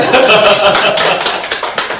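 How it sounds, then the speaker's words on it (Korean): A room full of people breaks into applause, dense rapid hand clapping loud and close, with a voice talking over it at the start. "박수 칠까요?"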